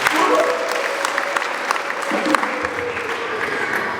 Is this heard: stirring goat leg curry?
no